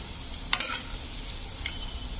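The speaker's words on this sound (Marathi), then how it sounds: "असे खरपूस तळून दिलेत मी" Crisp bhaji fritters crackle and hiss in hot oil with a couple of sharp clicks from a slotted spoon, a close, steady frying sound heard alone.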